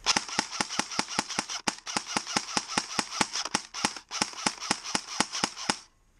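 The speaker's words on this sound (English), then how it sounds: "So as you can hear, I'm tap firing it pretty well, and the gun keeps up" Airsoft gun tap firing in rapid semi-auto bursts, about twenty sharp close cracks in steady quick rhythm with a brief gap in the middle, then stopping.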